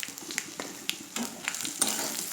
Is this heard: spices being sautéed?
yes